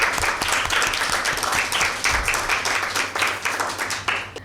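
An indoor audience at a Mother's Day Bible quiz show claps in a dense, steady burst of applause that stays loud throughout with no talk over it.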